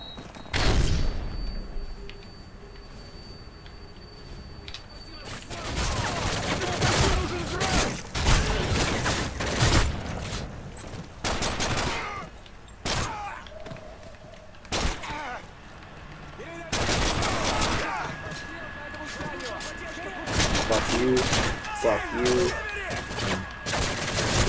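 Rapid gunfire crackles in dense, loud bursts with gaps between volleys in Call of Duty Modern Warfare 3, mixed with other battle noise and a voice speaking at times.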